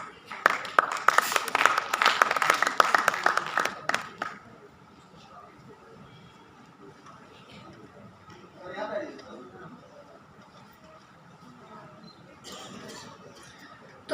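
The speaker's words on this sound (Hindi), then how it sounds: "तो जोरदार तालियों से स्वागत करें हमारे पूर्व उप निदेशक श्री गोपाल चंद्र ओझा सर का।" Dense applause and clapping from an audience welcoming a former deputy director on stage at a youth exchange programme event, loud for about four seconds then fading, with a few softer claps and voices later.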